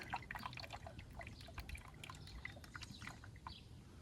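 Engine oil draining from a 2008 Chevy Suburban during an oil change outdoors on a hot Iowa day, heard as a quiet, steady trickle with scattered drips over a low background hum.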